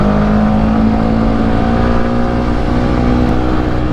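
A Yamaha R15 V3 with a Tridente F22 exhaust is revved hard toward its limit, producing a loud, sustained, close engine drone with steady pitch throughout and no voices.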